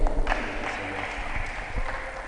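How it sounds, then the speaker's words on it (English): An audience at a diocesan youth conference claps, a brief, moderately faint patter of applause from a crowd indoors. "Let us give a mighty hand clap for our brother."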